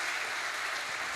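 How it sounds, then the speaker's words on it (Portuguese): A church congregation applauds its pastor and deacons, a steady, even roar of many hands clapping with no voices on top. "Can you give them a round of applause?"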